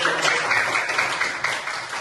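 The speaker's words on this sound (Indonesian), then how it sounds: "Tepuk tangan." A class of students claps for a classmate's correct answer during a lesson, a short, fairly loud burst of mixed clapping lasting about two seconds.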